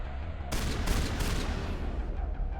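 Explosive-round shotgun fire in Mass Effect, a dense burst of booming blasts erupting after a brief low rumble and rolling on as a sustained, loud volley.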